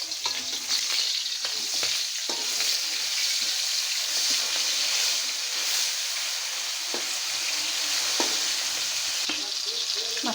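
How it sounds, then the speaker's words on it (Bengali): Small puti fish fry in hot oil with a steady, bright sizzle that crackles and spits continuously, punctuated by brief clinks of stirring, close and with no talking. "মাছটা ভাজা হয়ে গেছে"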